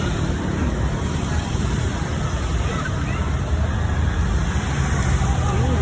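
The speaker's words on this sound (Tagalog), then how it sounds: "Sa kasalukuyan ko ngayon, nagka-traffic ngayon." Steady, dense traffic noise outside a hypermarket, a continuous roar of vehicles with background crowd babble throughout.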